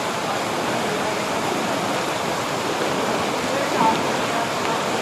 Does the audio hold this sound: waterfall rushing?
yes